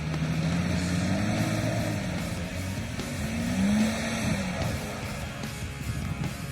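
A heavily modified Jeep Cherokee XJ on big wheels churns through deep mud at a 4x4 club challenge, its engine droning and rising steadily for several seconds at moderate distance, with no talk.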